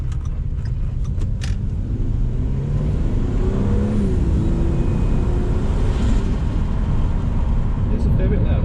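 A Ford FG Falcon engine fitted with an Antz Performance 4-inch airbox idles and revs in a steady, close, low droning hum, with a rising whine swelling midway and no talk over it.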